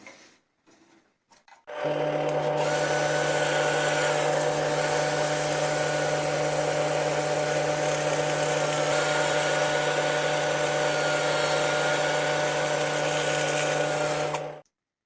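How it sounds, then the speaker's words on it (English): Laburnum wood spinning on a lathe while being sanded gives a steady, loud whirring hum with a broad abrasive hiss that runs continuously for about twelve seconds before cutting off. "I'm going to sand it up a bit now, ready for some resin."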